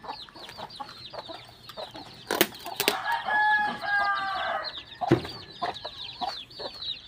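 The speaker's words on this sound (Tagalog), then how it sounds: "Sulit talaga itong mga sisiw na to eh." Chicks and chickens cluck and peep close by on a farm, with a steady chatter of small calls, a few louder squawks mid-way, and brief knocks and rustles.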